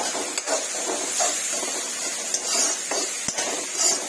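Vegetables and spices are stirred and mixed in a pot on a home kitchen stove, giving a steady sizzling hiss with soft scraping strokes and a few faint clinks, no voices.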